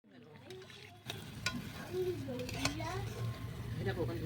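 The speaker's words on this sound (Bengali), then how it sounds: "আমাদের আজকে ভাজা পিঠে করছে মা" Pitha, fried rice cakes, sizzling in hot oil at close range, a steady frying hiss that grows louder after the start, with clinks of utensils and people talking over it.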